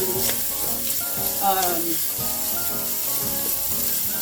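Pancetta fat rendering in a pan over medium-high heat, giving a steady, close, dense sizzle and crackle that runs the whole time with no talking.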